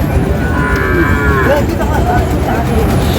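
A Sahiwal bull calf moos loudly and close at a busy cattle market, a drawn-out low call over crowd murmur and background chatter.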